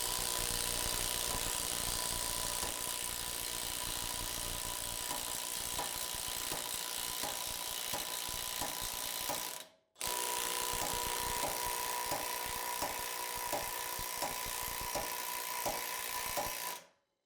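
A BOLTR right-angle ratchet being struck with a torque multiplier tool, a long run of evenly spaced tapping clicks over a constant hiss, broken by one brief gap before the rapid tapping resumes.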